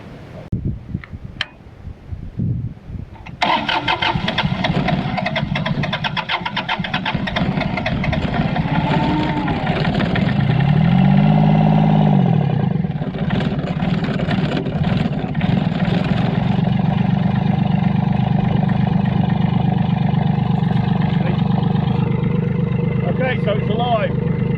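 A farm digger's diesel engine cranks with a few clicks and starter whine, catches and settles into a loud, steady running rumble, with a rising and falling revving tone partway through.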